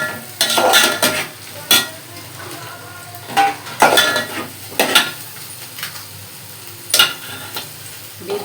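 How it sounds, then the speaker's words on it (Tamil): Brinjal and ridge gourd sauté over a low flame under a quiet, steady sizzle, with repeated sharp scrapes and clinks of a spoon against the pan in an irregular rhythm and no one talking. "நல்லா சிம்மில் வச்சு வதக்கிக்கோங்க"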